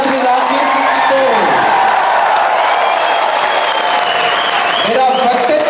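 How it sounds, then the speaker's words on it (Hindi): A town hall audience at a youth dialogue event in Barmer applauds loudly and steadily, a dense wash of clapping with scattered cheers and whistles, while a voice speaks over it near the start and again near the end. "एक बार आकाश पर तालियां बजा करके मारवाड़ का प्यार दीजिएगा श्री राजवीर सिंह जी को"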